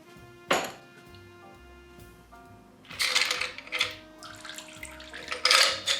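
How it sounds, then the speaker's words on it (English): Ice clinking and swirling as it is stirred in a cocktail mixing glass for a Manhattan-style drink: a sharp clink early on, then busier, brighter rattling bursts in the second half, close and fairly quiet. "Add ice to your mixing glass and give that a stir"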